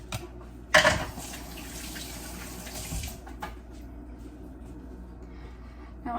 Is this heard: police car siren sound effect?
no